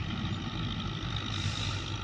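A Belarus 510 tractor engine runs with a steady, droning rumble, continuous and fairly close, with no talk over it.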